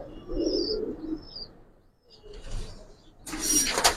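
Giribaz pigeons coo in low, soft bursts at close range, with a brief flutter and higher chirps later amid light background noise; no speech.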